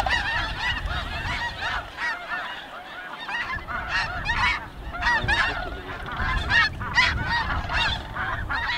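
Geese honk in a loud, continuous chorus at a pond, many birds calling at once in overlapping, raucous bursts with no pauses, the flock sounding close and dense.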